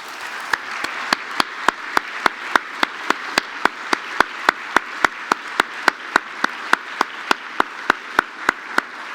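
Audience applause at an Eclipse community conference for the program committee, a steady broadband wash with evenly spaced sharp claps standing out in a regular rhythm throughout.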